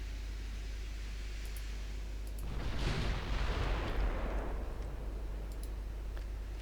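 Warship main guns firing in the naval game Ultimate Admiral Dreadnoughts, heard as a single muffled boom that swells out of a steady noisy background and fades over a couple of seconds.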